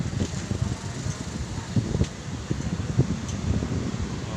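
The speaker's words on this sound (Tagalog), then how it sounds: "Lakas na ng hangin." Strong wind buffeting a microphone, a steady low rumble with gusty surges and rustling, continuous throughout.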